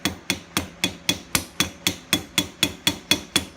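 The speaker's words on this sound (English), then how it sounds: "I'm going to use the round end of the ball peen to start to try to flare that out" A ball peen hammer strikes with its round end, peening over a handle end set through an anvil's hardy hole to flare it. Sharp metallic blows fall about four times a second in a steady, close, even rhythm, with no talk.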